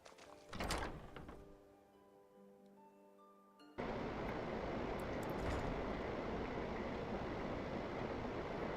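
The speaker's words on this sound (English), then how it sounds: "Rain's pretty loud inside." Heavy rain heard from indoors in a modded Skyrim game world, a loud steady broadband wash that starts abruptly after a brief door-like thunk and quieter stretch, then continues unbroken.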